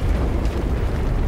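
A grenade explosion in the video game Space Marine 2 gives a loud, sustained, rumbling roar of dense low noise, with no talking over it.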